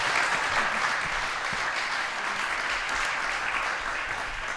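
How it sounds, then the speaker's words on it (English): An audience claps continuously for a panel at the close of a Q&A session, a dense and steady round of applause that holds at an even level throughout. "Let's give the panelists a round of applause."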